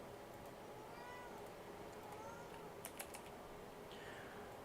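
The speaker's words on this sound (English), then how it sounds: "I know you guys can probably hear my cat in the background" A pet cat meows faintly in the background of a home music studio session, a few soft calls under low room noise, with light clicks nearby.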